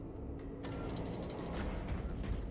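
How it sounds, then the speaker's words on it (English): Elevator machinery moving in the video game Warhammer 40K Space Marine 2, a rumbling mechanical grind with ratcheting, creaking clanks that carries on steadily at moderate loudness. "This elevator goes to the rooftop."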